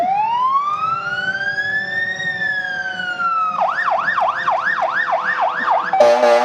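A loud fire truck siren at a town parade sweeps up and down in a long wail, then shifts into a rapid yelp, with a blaring horn burst at the end.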